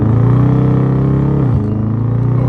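A Dodge Charger driving with a loud, close engine drone that holds steady, then dips briefly in pitch as if shifting before settling back to a steady hum.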